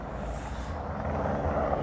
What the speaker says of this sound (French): on a un hélicoptère qui tourne autour du site